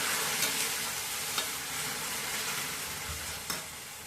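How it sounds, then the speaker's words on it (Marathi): Milk poured into roasted wheat in a hot pan, giving a steady soft sizzle with a few faint clinks and stirring scrapes, no voices. "आता त्यात आपण दूध टाकणार आहे हे बघा दूध टाकून घेतलंय"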